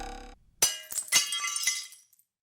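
A window pane shatters with a sharp crack, followed by a brief cascade of breaking and tinkling glass shards, loud and close, after a short burst of low sound.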